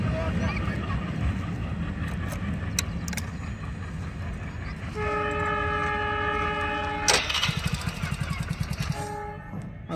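Goods train loaded with gravel rolling steadily past near Raimoh station, Dagadwadi, with continuous low rumble and wheel clatter, a sustained horn-like tonal blast in the middle and sharp rhythmic clanks toward the end.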